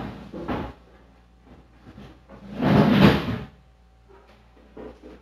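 Plastic crisper drawers slide out of a Samsung French door refrigerator during cleaning, a loud scraping rush in the middle with smaller knocks and rattles before and after, close by.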